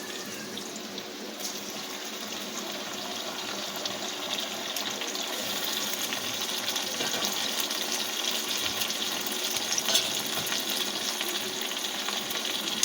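Steady, close sizzling and crackling of ginger-garlic paste frying in hot oil in a pan, continuous throughout with no talking.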